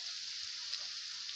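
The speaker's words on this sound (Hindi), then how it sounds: "दूसरी तरफ जो है मैंने तवा रखा हुआ है, अब उसमें मैं डाल दूंगी कीमे वाला पराठा" A keema paratha lands on a hot tawa griddle and sizzles in a steady, even hiss, fairly faint and alone.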